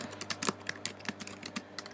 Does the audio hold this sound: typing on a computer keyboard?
yes